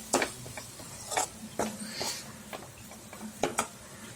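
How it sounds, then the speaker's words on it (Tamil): Stirring a tomato masala with chilli, coriander and turmeric powder in a pan, a handful of separate scraping and tapping strokes against the metal with quiet sizzling between them. "இதை நல்லா மிக்ஸ் பண்ணிக்கோங்க."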